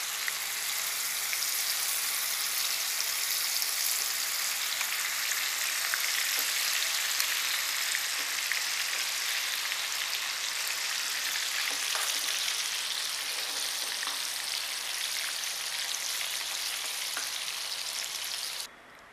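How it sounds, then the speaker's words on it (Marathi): Marinated green chicken pieces coated in yogurt masala shallow frying in hot oil. A loud, steady sizzle crackles close by, dense and unbroken for the whole stretch. "तर आता आपण हे तेलामध्ये फ्राय करूया."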